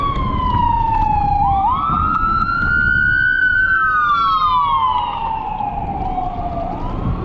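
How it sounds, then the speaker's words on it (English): An ambulance siren wails on a city street, its rising and falling tone sweeping loudly over a constant rush of wind and traffic noise. "Sorry about that ambulance."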